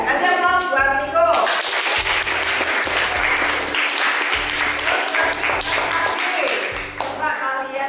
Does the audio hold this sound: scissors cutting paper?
no